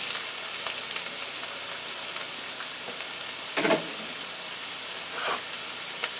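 Cubed zucchini hits a pan of frying onions and sizzles steadily and softly at close range, with a few sharper crackles and stirring scrapes breaking through the constant hiss.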